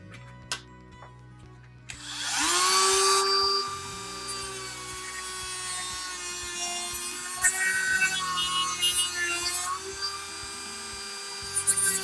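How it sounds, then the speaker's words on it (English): A Dremel rotary tool trims a part from a roundhouse model railway kit. After a few faint clicks, a high whine grinds in with a rough rasping edge, shifting in pitch as the bit bites, with no talking. "now we simply take our Dremel and we trim off"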